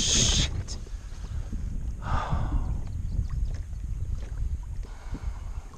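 Kayak paddling on California Delta water during a fishing trip: soft, uneven paddle splashes and dips close by, with wind buffeting the microphone and a brief louder splash early on.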